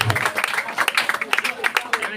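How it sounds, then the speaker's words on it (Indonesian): Applause breaks out for an award winner at the closing ceremony of a new-student orientation at an Islamic boarding school: a steady crowd of many hands clapping, with voices mixed in. "Kita berikan tepuk tangan yang meriah."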